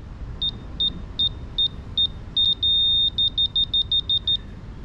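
Laser level receiver on a roof-raising job beeping in a series of short electronic chirps, speeding up, holding one long solid tone, then resuming quick regular beeps, clear and close.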